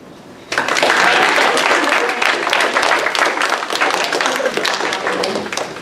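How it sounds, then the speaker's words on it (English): Enthusiastic audience clapping at a school drama presentation, starting abruptly and continuing loud and dense for several seconds, with scattered voices in the crowd. "Start clapping."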